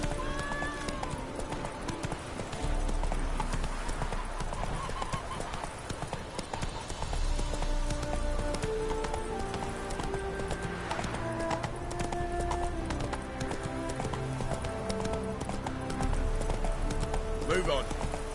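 Horse hooves clip-clopping in The Witcher 3 as the horse Roach moves at a steady pace under game music, with an occasional whinny and someone talking over it.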